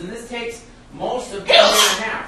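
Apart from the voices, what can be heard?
sneeze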